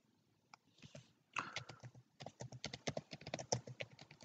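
Rapid clicking keystrokes on a computer keyboard, quiet and close, in quick irregular bursts with short pauses.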